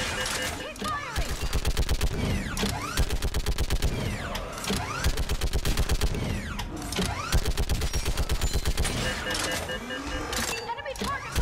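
Sustained gunfire in Mass Effect 3 during the Priority Thessia battle, with rapid automatic bursts repeating in long rhythmic volleys, broken by short pauses and mechanical clanks, loud and close, with shouted voices underneath.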